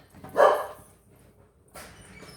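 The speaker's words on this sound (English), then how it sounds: "Uh-oh, Claire's barking" A pet dog barks indoors, one sharp loud bark followed by a softer second bark about a second later, with no talking.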